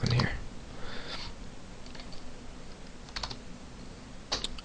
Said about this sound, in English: I'm going to type username